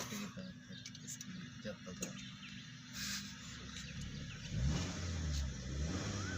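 A Maruti Ritz ZXi CNG hatchback engine runs steadily, then revs up near the end of the stretch into a rising mid-pitched roar, with outdoor noise around it.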